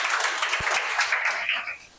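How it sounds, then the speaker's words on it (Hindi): Students in a classroom clap together in a brief, dense burst of applause that fades out toward the end, with no voices over it. "तालियां हो जाए।"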